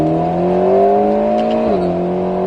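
Alpine A110 S accelerating hard around the Grand Sambuc race circuit, a steady rising engine drone heard from inside with a brief dip at a gear change, loud and continuous with no talk.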